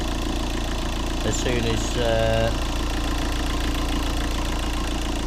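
Vauxhall Astra CDTI diesel engine idling steadily with a low, even rumble throughout, left running after an alternator replacement, with a voice briefly speaking over it.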